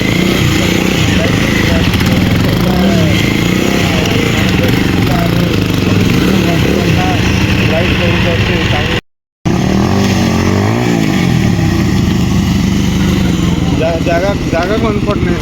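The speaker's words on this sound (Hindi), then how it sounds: "तो चलो बाइक स्टंट के देखमा" Motorcycle engines rev and roar loudly and continuously during bike stunts at an outdoor content creator meetup, with a brief cutout midway, and voices are mixed into the din.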